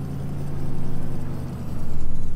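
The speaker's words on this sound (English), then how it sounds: "the engine's note sounds a bit strange when you get faster" Vehicle engine in Farming Simulator 2015 drones steadily with a low, pulsing hum that rises slightly in loudness as it speeds up, heard alone without talk.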